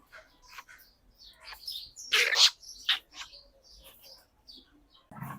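Night herons call in short, scattered chirps and squawks, a few louder bursts standing out near the middle against an otherwise quiet background.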